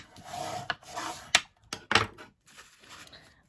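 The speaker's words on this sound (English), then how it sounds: "we can just give that a quick burnish" A quick burnish along the scored fold of Mango Melody cardstock for a handmade card, a series of short dry rubbing strokes with sharp scraping bursts, close and fairly quiet.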